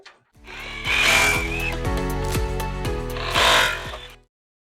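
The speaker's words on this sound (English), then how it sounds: "I'm hoping my impact gun here will drive these in." An impact gun drives Tapcon bolts into a concrete block, giving a close, loud run of rapid hammering impacts that swells, eases and swells again before cutting off.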